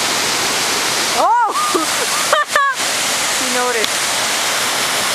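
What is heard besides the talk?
waterfall in Sequoia National Park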